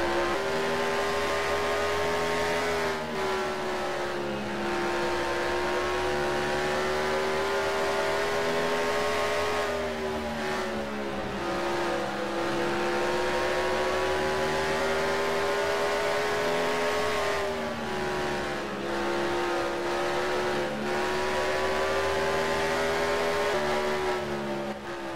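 Whelen Modified race car engine roaring loudly from onboard through a lap at Dodge Raceway, a steady harmonic drone that dips and climbs as the driver lifts and accelerates through the corners, with no talking.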